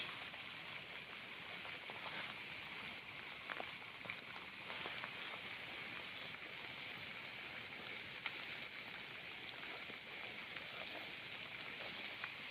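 Steady rain falls on a rural outdoor spot, a constant broadband hiss with scattered drop taps throughout, moderately loud and without talk.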